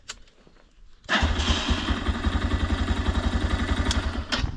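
A Geon X-Road Light 250 motorcycle engine, a 2023 model, cranks and catches after a quiet second, then runs at a steady, loud, near idle with a rapid pulsing beat until the clip ends.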